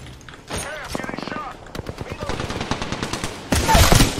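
Rapid automatic gunfire from an Apex Legends match crackles in dense bursts, louder toward the end, while a player talks over the shooting.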